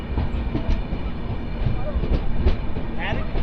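A passenger train pulls out of Bhatkal station on the Konkan line, giving a steady, fairly close rolling rumble with faint wheel clatter and brief higher squeals throughout.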